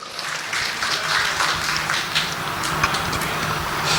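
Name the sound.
audience applause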